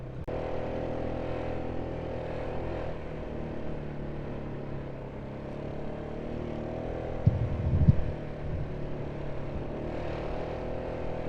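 Polaris Sportsman and Can-Am Outlander ATVs ride snowy Colorado trails, their engines droning steadily with rising and falling tones, and a brief burst of rumbling throttle partway through.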